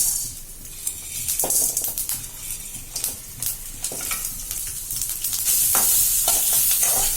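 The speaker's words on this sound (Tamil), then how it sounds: "அடுத்து ஒவ்வொன்றா போட்டு அப்படியே வறுக்கிறேன்" Ingredients dropped one at a time into hot frying oil: close, bright sizzling broken by sharp scrapes and clatters of stirring, growing louder and denser toward the end.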